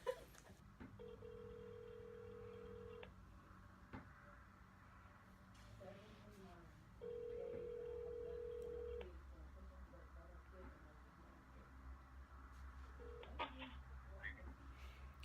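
Telephone keypad tones sound as a number is dialed for a call, short steady beeps recurring in a few separate bursts, fairly quiet, with faint voices and background noise between them.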